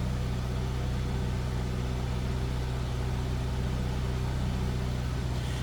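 A 2007 Pontiac Solstice sits idling in stock form, a steady low engine drone with a constant hum and no revving, heard close and alone.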